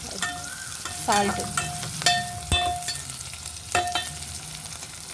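Ivy gourd fries in oil with salt in a Kadapa-style dish, a close sizzle broken by scraping stirs and clanks of a spoon against the pan, with a brief spoken word.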